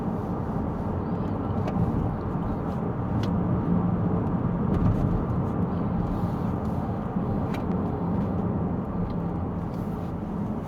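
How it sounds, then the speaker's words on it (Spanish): A Mercedes CLA 250+ electric car accelerates up a steep mountain road, giving a steady, continuous drone of road and tire rumble with a faint motor whine, fairly loud and unbroken, with no talk over it. "Apretarle un poquito para ver cómo responde el coche"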